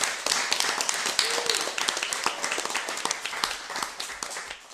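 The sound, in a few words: audience applause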